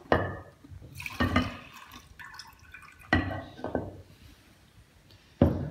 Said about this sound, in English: So I'll pour it out.